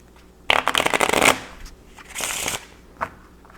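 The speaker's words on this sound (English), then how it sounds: "I'm going to shuffle the cards." A deck of playing cards being shuffled up close, a loud riffling burst followed by a softer second riffle and a final tap, with no talking.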